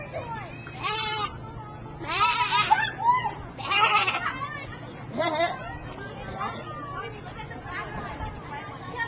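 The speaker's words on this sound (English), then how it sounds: "look at that little baby goat in there" A baby goat in a farm pen bleats in several short, wavering cries close by, with children and adults chattering in the background.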